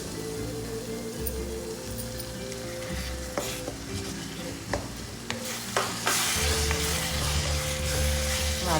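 Finely chopped tomatoes sizzle loudly in hot oil in a pan for tomato kuruma. A spoon stirs them with scraping strokes, and the frying hiss stays steady and close throughout.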